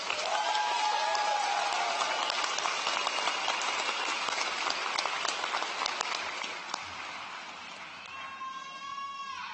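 Crowd applause at a high school graduation ceremony, a broad wash of clapping from a large audience that fades toward the end as a voice starts speaking.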